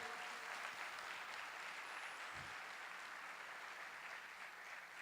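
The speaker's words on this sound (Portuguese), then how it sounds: "Eu quero uma salva de palmas para o meu time," An audience gives a steady round of applause for a business team at a company testimonial event, a continuous soft clapping wash with a brief low thump midway.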